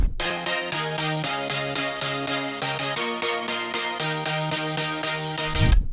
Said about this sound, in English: The chords altogether sounds like this.